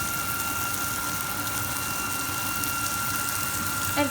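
Liquid being poured into a pot of soup with egg and miso, a steady continuous gushing pour lasting the whole stretch, fairly close, with faint background noise and no talk.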